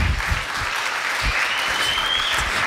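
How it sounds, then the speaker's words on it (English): An audience at a political talk about impeachment bursts into steady, dense applause that fills the whole stretch at an even level, with no speech above it. "I just always get applause just mentioning that that bill exists."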